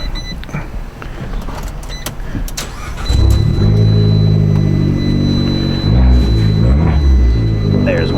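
A sports-mode exhaust on a Maserati Ghibli Q4 or Fiat 500 Abarth fires up after a few seconds of background noise, then holds a loud, close, throaty idle with a brief blip of revs near the end.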